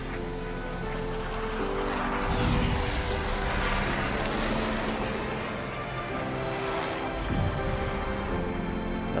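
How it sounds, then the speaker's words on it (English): Aircraft fly overhead in the Everybody's Gone to the Rapture video game, a broad roaring drone that swells and fades over several seconds, steady and fairly loud, without speech. "Oh, there's planes coming."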